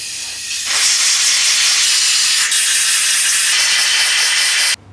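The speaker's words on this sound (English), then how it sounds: "now we blow out this brake clean with some compressed air" Compressed air blasting brake cleaner out of cylinder block bolt holes during a head gasket replacement, a loud continuous hiss that starts abruptly, runs steadily for about four seconds and cuts off sharply.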